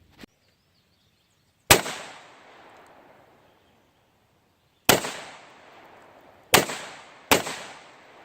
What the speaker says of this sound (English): I'm going to shoot it with a 22.